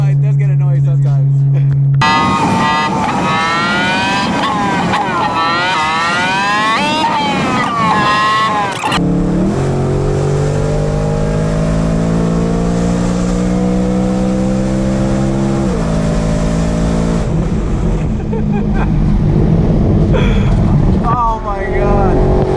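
A BMW E92 M3 with a loud exhaust on a canyon drive, heard from inside as the engine repeatedly revs up and shifts through rising howling pitches, then holds a droning note before easing off, loud and close throughout.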